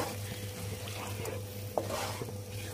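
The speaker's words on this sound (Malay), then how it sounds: "Kita gaul dia bagi sekata." A spoon stirs through a thick simmering beef curry, soft scraping and bubbling with a single clink against the pot.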